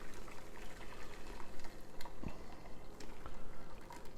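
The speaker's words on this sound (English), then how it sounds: "I'm going to start adding through a sieve the mixture I just did" Soup mixture is poured through a sieve into a big cooking pot, a soft steady trickle and burble of liquid with small drips and a faint splash partway through.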